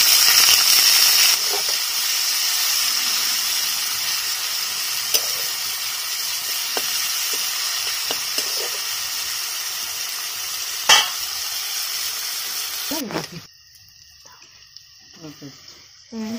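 Chopped capsicum hits hot oil already spiced with cumin and dried red chillies, giving a loud, steady close sizzle with occasional stirring clinks, then the hiss drops away sharply near the end.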